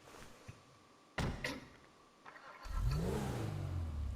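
A car in the GTA Online video game: a door thumps shut, then the engine cranks and starts with a rising rev before settling into a low idle.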